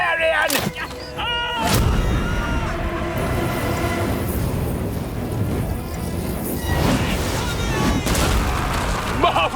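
A catapult looses a flaming incendiary dart on a recreated ancient Roman battlefield. The release comes as a sharp thump, followed by a loud, sustained roaring rush with scattered impacts that keeps going for several seconds.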